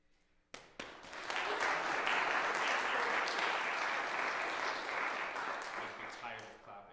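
Sustained audience applause at a junior trombone recital, rising after a couple of sharp claps into a dense, steady ovation that holds for several seconds before slowly thinning.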